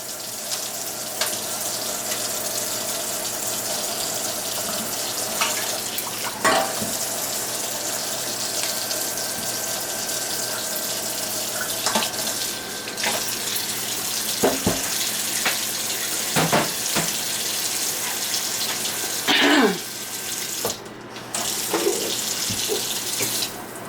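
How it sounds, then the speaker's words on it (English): Steady running water from a kitchen tap while a sink is cleaned out, a continuous hiss with scattered clunks and scraping of items moved in the basin, no talk. "I'm going to clean my sink out"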